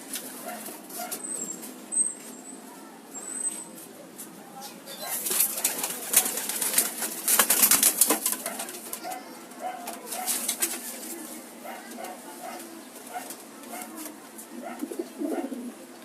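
Soft pigeon coos repeat at a moderate distance over a busy outdoor background, with occasional rustling and faint chirps.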